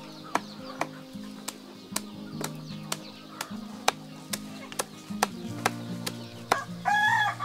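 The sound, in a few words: sentul free-range chickens clucking and crowing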